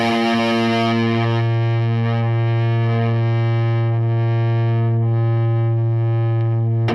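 A single overdriven electric guitar chord through an Ibanez Tube Screamer pedal rings out alone for several seconds, compressed and smooth with long, steady sustain and only slight fading, close and loud.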